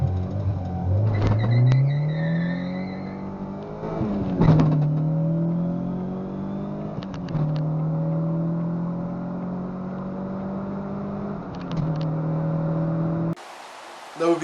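A car being driven without VTEC engaging, its engine pitch climbing repeatedly through several gear pulls, with whooshing bursts between shifts, close and fairly loud throughout.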